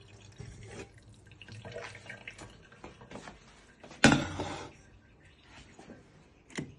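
Tap water runs into a pot being filled to boil eggs in a home kitchen, a steady splashing stream with a sharp gush partway through, heard alone with no talk.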